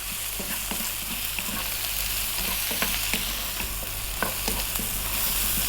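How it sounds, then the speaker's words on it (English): Steady crackling sizzle of onions frying in a hot pan, with scattered pops and occasional stirring scrapes, no voices. "we're going to continue frying this for another 4 or 5 minutes"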